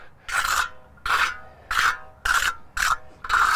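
A pool trowel flattens sprayed concrete resurfacing into a knockdown finish, giving five or six close, rasping swipes at a steady rhythm of about one per second.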